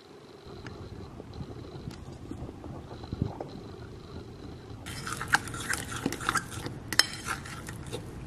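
Banana cake batter is being stirred in a bowl: close scraping and clinking of a utensil against the bowl, getting busier and sharper in the second half, with no speech.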